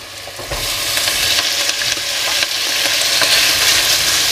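Onions simmer in bacon fat in a frying pan with a steady, close sizzle and crackle that holds at the same level throughout, with no voices.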